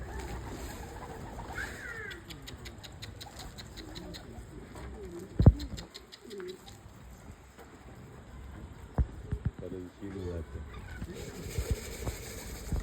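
Filo pigeons coo softly in the background among busy outdoor noise, with a sharp knock partway through and scattered clicks near the end.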